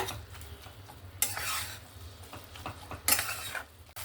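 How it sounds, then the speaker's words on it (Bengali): Taro greens stirred with salt and turmeric in a pan give a close, scraping stir with utensil clinks and two louder scrapes over a gentle sizzle, with no voices. "হলুদ আর লবণটা ভালো করে মিক্স করে নিয়েছি"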